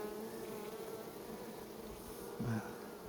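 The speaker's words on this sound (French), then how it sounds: "on peut voir que c'est quand même une ruche où il y a une belle activité" Honeybees buzzing steadily at a busy, active beehive, a continuous close insect drone with a brief louder swell as a bee passes near.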